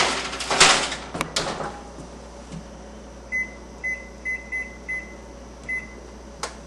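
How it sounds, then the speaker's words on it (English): An oven timer sounds after honey-coated pecans finish baking: a clatter and thumps at the start, then a series of short, evenly spaced electronic beeps over faint room hum. "So my beeper just went on these pecans"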